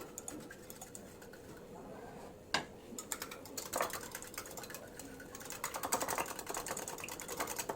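A spoon stirring batter with coriander and chopped green chili in a bowl, soft quick scraping and wet pattering taps in an irregular rhythm, close but faint.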